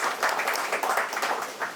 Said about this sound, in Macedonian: сакам еден голем аплауз за Јане